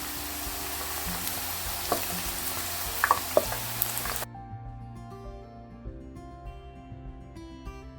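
Oil sizzles and crackles loudly as murukku dough deep-fries, with scattered pops, then the frying abruptly quiets to a softer bubbling.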